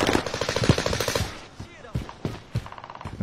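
Sniper rifle fire in an online shooter video game: loud, close, sharp bursts of shots cluster at the start, followed by scattered single cracks and game effects.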